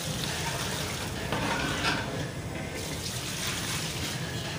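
Two litres of water poured into a large pot of Karachi-style commercial biryani on a high flame, giving a steady loud rushing splash that runs unbroken for several seconds.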